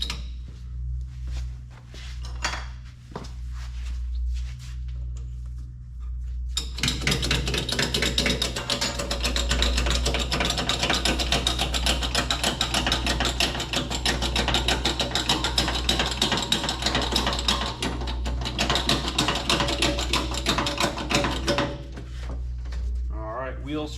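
Jacking up a Polaris Ranger 900 utility vehicle with a ratchet jack, a steady run of rapid mechanical clicking and clanking that starts after a few seconds and continues loudly, with a low hum underneath throughout.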